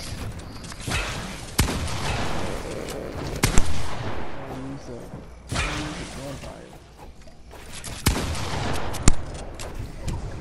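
Fortnite gunfire cracks out in several loud, sharp shots and short volleys, spaced unevenly over dense game sound.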